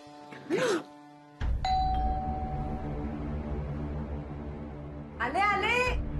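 A doorbell in a Marathi TV serial rings with a sustained electronic chime and ding-dong tone after a short vocal sound, with voices heard before and after it.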